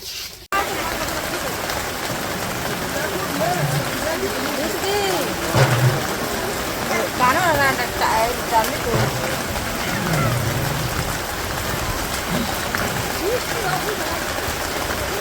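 Steady rain patters and hisses in a village yard where food is being cooked outdoors, with people talking under the constant wash of water.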